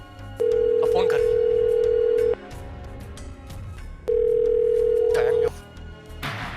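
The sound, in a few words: telephone dial tone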